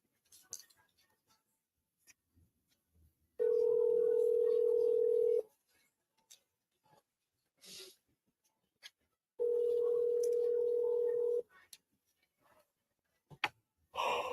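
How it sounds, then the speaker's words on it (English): A phone line gives two long steady ringback tones, each about two seconds, separated by a quiet gap, during an outgoing call to a seller, with faint desk noises and breaths in between. "let me give Tom a call"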